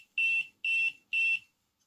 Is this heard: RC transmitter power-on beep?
yes